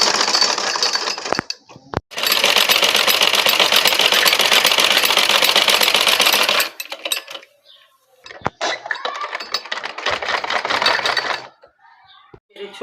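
A sewing machine stitches a baby's clothes, its fast mechanical whirr running loud and close in long continuous runs broken by short pauses, with someone talking in the gaps.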